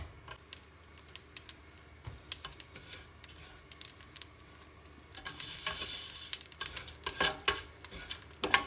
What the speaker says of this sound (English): you can start to hear a sizzle